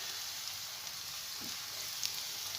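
Aloo tikki shallow frying in oil, a soft, steady sizzle and hiss with faint crackles throughout, quiet and even, no voices.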